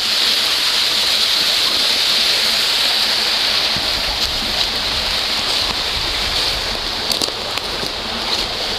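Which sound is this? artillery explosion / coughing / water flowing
water flowing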